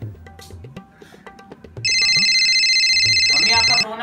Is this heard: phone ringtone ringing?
yes